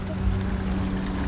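Motorboat engine droning steadily on open water during a festival outing in Kerala, a low continuous hum with faint wind and water wash, no clear speech.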